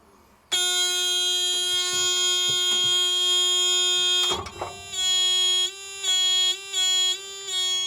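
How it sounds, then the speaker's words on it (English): A loud, steady electronic warning buzzer in a Unimog 416 truck cab drones for several seconds, then sputters and cuts into a series of short repeated bursts. "I had that annoying buzzer going on throughout most of this"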